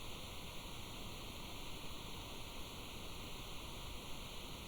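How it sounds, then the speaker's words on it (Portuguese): Steady rain falling on a roof and street by a beach house, an even, faint wash of noise with no breaks. "A chuva cobre o teto."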